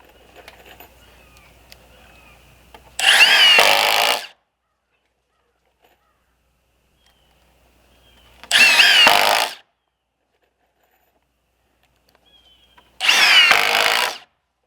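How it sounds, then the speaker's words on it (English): Three separate bursts of a power drill driving fasteners into a 2x4 on a window frame in a post-frame barndominium, each loud and about a second long, with near silence between them and faint handling sounds at the start. "And drill it in down here."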